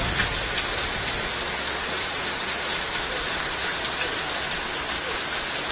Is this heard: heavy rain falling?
yes